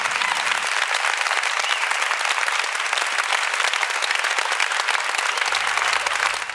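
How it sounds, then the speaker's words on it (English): Applause fills a summer student recital, a loud, continuous stretch of clapping that stays even throughout, with no talking over it. "Big applause for our next performer."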